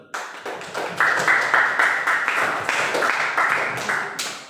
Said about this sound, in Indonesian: Kita beri aplaus terlebih dahulu.